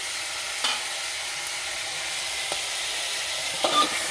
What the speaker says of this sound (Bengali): সবগুলো একসাথে মিক্স করে বেশ কিছুক্ষণ নাড়াচাড়া করে ভেজে নিতে হবে।